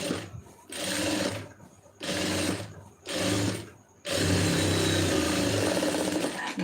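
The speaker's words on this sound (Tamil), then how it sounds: "இப்போ இதை வந்து மடித்து ஒரு தையல் போட்டுருங்க." A sewing machine stitching blouse lining runs in four bursts, stopping briefly between short runs before a longer continuous stretch, with a close, loud, steady mechanical whir and no talking.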